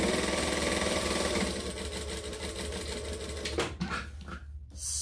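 A sewing machine stitches long seams on a tote bag in a continuous close, humming rattle that eases off near the end with a couple of brief stops and restarts.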